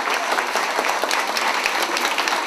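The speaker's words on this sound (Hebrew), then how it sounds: "שמגיע לה באמת מחיאות כפיים" Applause for a teacher at a primary school prayer-book ceremony: dense, steady clapping from a crowd filling the room, loud and continuous throughout with no speech over it.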